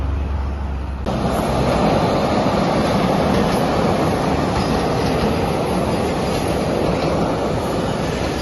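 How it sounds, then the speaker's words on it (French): Rail maintenance train working on the tracks near Ayutthaya, Thailand, a loud continuous rumbling roar that swells in abruptly after a quieter opening second and stays dense and close. "Le service de réfection des rails est à l'œuvre"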